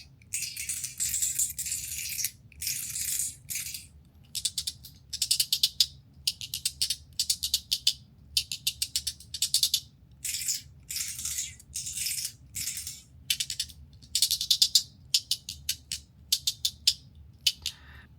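Magnetic buckyball slider fidget toy being slid back and forth, giving bursts of sharp metallic clicks and rattles in an irregular rhythm, close and fairly quiet, with no talking.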